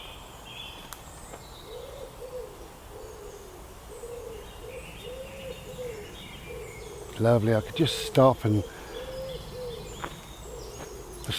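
Birds call in a calm, quiet countryside setting, with a soft repeated owl-like hoot in the background and a few louder close bird calls, while a person speaks quietly over it.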